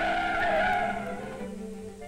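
A car brakes hard to a stop, its tires squealing loudly in a sustained skid that fades slightly toward the end, with no voices.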